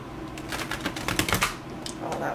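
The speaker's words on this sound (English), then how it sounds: "Attempt to shuffle the cards here." A deck of tarot cards is riffled and shuffled by hand in a quick burst of papery flutters and clicks that peaks mid-way, then eases off.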